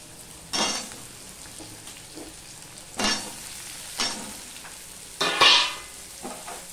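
Potatoes dropped into a pan with onions and three chillies, giving a few separate bursts of sizzling and stirring over a low background, the loudest burst near the end.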